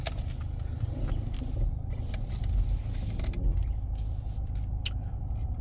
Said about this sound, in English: Now I will reverse the car so you can see a little bit better.